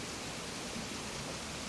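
Waterfalls beside a cromlech in Animal Crossing: New Horizons, a dense, constant rushing roar, loud and unbroken for the whole stretch.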